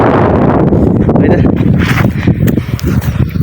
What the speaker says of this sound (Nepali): यहाँ फेरि खासै हावा भएर चाहिँ भिडियो बनाउनु पाइनँ